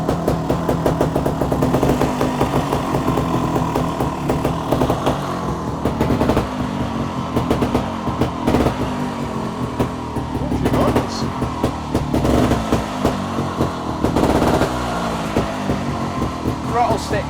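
A budget trials motorcycle engine runs continuously with a dense, rough mechanical chatter, its sound rising and falling slightly with the throttle, close and loud throughout.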